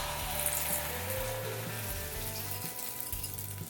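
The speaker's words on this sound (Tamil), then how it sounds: "எண்ணெய் சூடானதும் நம்ம கலந்து வச்சுருக்க முட்டையை சேர்த்துடலாம்." Continuous sizzling and crackling of beaten egg frying in hot oil for an omelette, steady and fairly quiet, with faint background hum.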